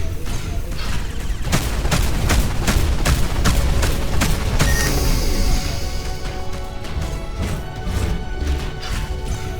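Spaceship guns fire in the space combat game Between the Stars: a loud run of sharp, regularly spaced blasts and crashes that gives way to a denser rumbling barrage, with a faint voice now and then.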